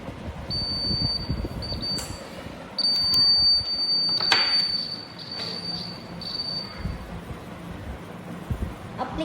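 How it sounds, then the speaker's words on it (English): Buzzer of a laser security system sounding as the beam is blocked, a thin steady electronic tone that cuts in and out several times over a low rumbling background. "as we block something, the buzzer starts to sound"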